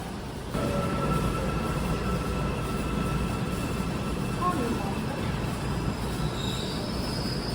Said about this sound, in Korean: 서울 지하철